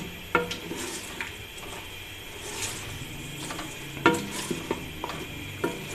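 Chongain (caralluma fimbriata) and meat are stirred in a pot over a soft sizzle, with irregular scraping and clinking of a spoon against the metal, near and moderately loud.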